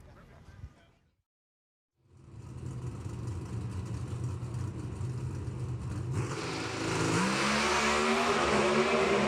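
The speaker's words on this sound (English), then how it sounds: "Both cars tear off." Two NHRA drag racing cars launch hard off the line at the Reading Nationals, a sudden sustained engine roar after a brief silence that grows louder and rougher over several seconds.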